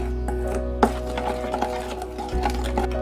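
Coffee powder, sugar and water being mixed for dalgona coffee, with soft scraping and clinking of a spoon against a bowl in uneven strokes, close and fairly quiet over a faint steady hum.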